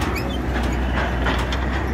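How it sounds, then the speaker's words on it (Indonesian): Jupiter Z locomotive rolling on rails while evacuating derailed lorries, a steady loud rumbling drone with faint rhythmic clicks, close and continuous, no talk. "Dan di belakang menyusul lokomotif Jupiter Z."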